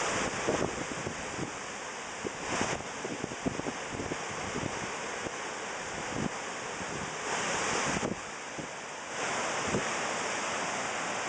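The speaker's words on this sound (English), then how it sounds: "I know you guys can hear that wind. It's ridiculous." Strong outdoor wind buffeting the microphone near trees in a field with milkweed, a continuous low roaring rush with gusty surges and rumbling bursts throughout, no voices.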